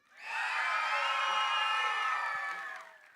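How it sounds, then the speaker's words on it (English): Audience giving loud cheering and whooping with some applause, a single sustained burst of many voices that swells in, holds for about two seconds, then fades. "let's hear what your loud applause or your loud cheering is going to sound like"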